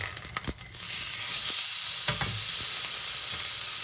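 Wagyu steak sizzles steadily in a hot frying pan, a dense bright hiss that swells after a few soft clicks and spatters at the start, then holds loud and even with occasional pops.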